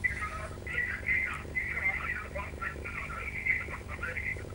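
A television plays in the background while a caller speaks over a phone line, its muffled sound running continuously under the thin, band-limited voice.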